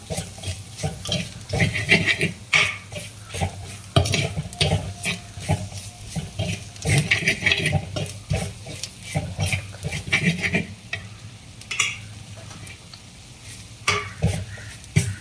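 Spice powders for prawn curry are stirred in a hot pan, a close sizzle broken by repeated scraping and knocking of the spoon against the pan in an uneven rhythm.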